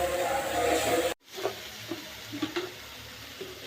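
Ground spices and red chili paste sizzle in a pan of frying beef, a steady hissing crackle that cuts off abruptly. Softer clinks and stirring sounds follow, with faint talk in the background.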